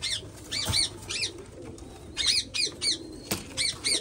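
Pigeons coo in repeated soft, throaty phrases, with a few sharp knocks and a bit of wing flutter against a quiet outdoor background.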